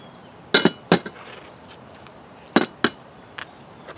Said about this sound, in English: you may have heard the bearing hit the ground